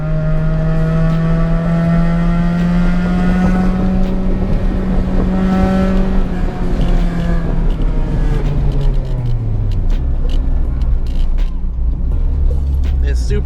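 A car climbs a hill, its engine note rising steadily through the gears and then dropping as the load eases, loud and close from inside the vehicle, with a strong harmonic whine over the rumble.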